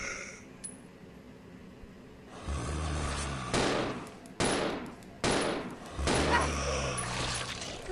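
Gunfire in the video game Resident Evil 0, heard as several loud, sharp bursts of shots separated by short pauses, each trailing off quickly.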